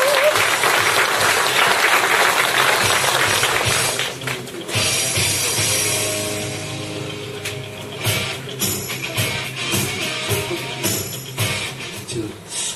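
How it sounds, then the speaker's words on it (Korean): Audience applause at an indoor policy presentation, loud continuous clapping at first that thins into scattered claps and handling noises. "큰 박수로 맞아주십시오"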